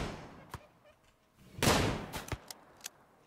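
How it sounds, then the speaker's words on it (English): Pistol shots in RimWorld ring out as several short, sharp cracks spaced irregularly, one louder burst in the middle, fairly quiet overall with no talk. "you'll see that the pistol will start to fire very, very soon"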